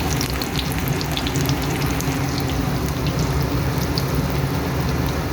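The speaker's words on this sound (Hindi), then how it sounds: "जो ही ऑयल गर्म हो जाएगा इन समोसों को हम फ्राई करेंगे।" Samosas deep frying in hot oil give off a dense, steady crackle and bubbling sizzle that stays loud and even from start to finish, with no talking.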